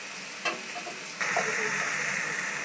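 Mustard and garlic masala stir-frying for pabda fish curry, a steady broad sizzle with a spatula scraping once early, then the frying hiss swelling and holding loud and close.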